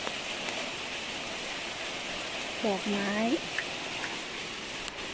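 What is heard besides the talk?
rain falling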